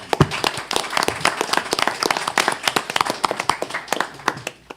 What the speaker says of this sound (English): Yes, you may clap.